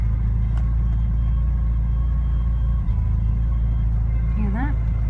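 Steady Porsche 944 engine rumble with a faint high whine running through it, a new fault; a brief rising squeal appears near the end.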